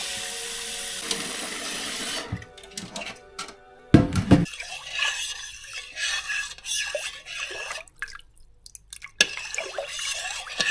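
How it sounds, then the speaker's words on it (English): Warm water running from a tap into a pan, with an irregular splashing and trickling stream that starts and stops across the stretch, close and moderately loud, no talk. "in lack of a bucket, I use a pan, and I just add some warm water."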